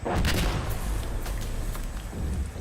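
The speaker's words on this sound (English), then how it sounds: "oh, that is artillery!" Artillery fire in the game Insurgency Sandstorm: a rapid string of loud, booming blasts and cracks, densest at the start and recurring throughout, close and heavy with no talk over it.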